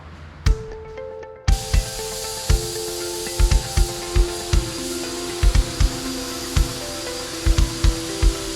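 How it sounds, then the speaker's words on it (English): A paint spray gun sprays paint onto a 1977 Ford F250 during a rebuild. A steady, close hiss begins after a moment of near-quiet and runs to the end, broken by repeated sharp knocks and clicks. "So I'm going to go ahead and start spraying. I've got paint in the gun,"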